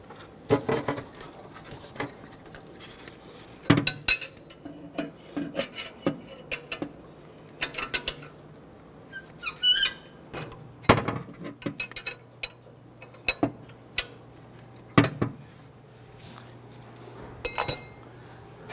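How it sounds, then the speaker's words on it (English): A 25mm wrench works the upstream O2 sensor loose on a 2006-2010 Hummer H3 3.7L, giving scattered metallic clinks, scrapes and ratcheting taps, close and irregular over a quiet background. "we're going to use a 25mm wrench on this tool. And let's go ahead and loosen this."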